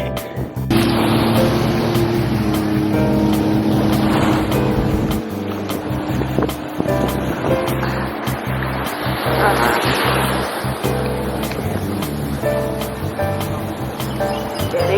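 Boats or jet skis run on ocean waves along a foggy Mexican coast, giving a steady, loud engine drone mixed with rushing water and surf that stays constant throughout, with faint voices at moments.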